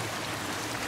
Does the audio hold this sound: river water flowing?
yes